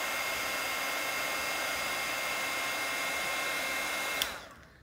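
An embossing heat tool blows steadily to heat-set a metal brad, a constant loud whooshing roar that runs alone for about four seconds before switching off and fading away.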